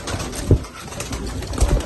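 A Spanish posta rubella pigeon gives a couple of short, low coos close by, one after the other, over faint background noise.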